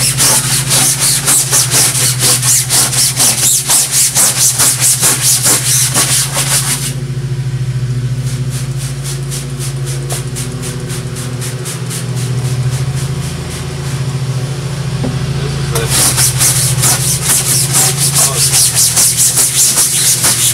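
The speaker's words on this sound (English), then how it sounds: "I'll scrub with this arm a little bit" A silkscreen on an aluminum frame is scrubbed with loud, rapid, rhythmic rubbing strokes. The scrubbing eases into a softer, steadier stretch in the middle before the vigorous strokes return.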